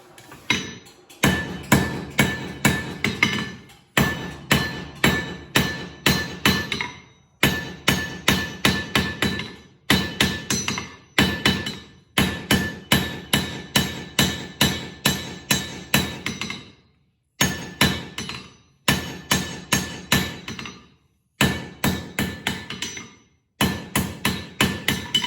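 A hammer rings on hot metal at an anvil while a flint striker is forged, sharp metallic blows in quick bursts of several strikes separated by short pauses, loud and close.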